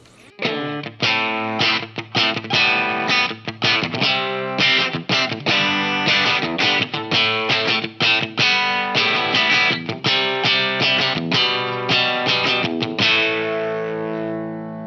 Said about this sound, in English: me testing the sound of this distortion unit